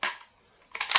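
A shell is loaded into the chamber of an MTs 21-12 semi-automatic shotgun, producing two sharp metallic clicks close up, separated by a brief quiet pause.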